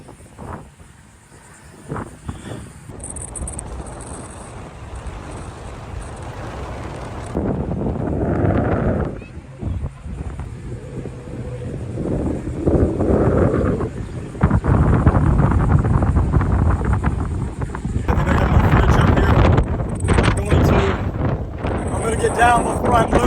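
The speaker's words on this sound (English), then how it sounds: "This wind is crazy." Strong wind buffets the top of a lighthouse in the Outer Banks, a loud roaring rush that swells and gusts against the microphone while people talk over it.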